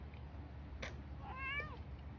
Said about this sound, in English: And here's Gingy the cat wanting to join.